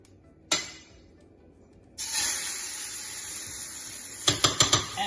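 A short hiss, then a longer spray of aerosol onto a pan, followed by a few quick clicking taps; no voices.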